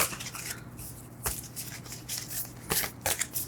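Deck of tarot cards being shuffled by hand, with soft riffling and several crisp sharper riffles, quiet and close.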